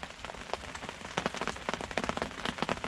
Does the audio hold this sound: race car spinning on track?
no